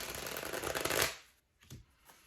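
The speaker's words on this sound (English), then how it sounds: "So I'm going to shuffle your cards and pull just like 3 or 4 cards" Tarot cards riffle-shuffled up close for about a second, a dense crisp flutter that stops abruptly, followed by a few soft taps and card slides in near silence.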